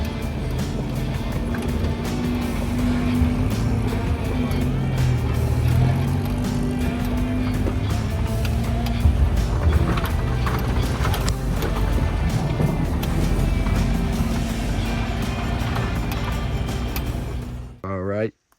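An old International Scout or Toyota Land Cruiser crawls down an off-road hill, a low idling engine rumble with knocks and rattles from the rough ground, steady and close, ending abruptly.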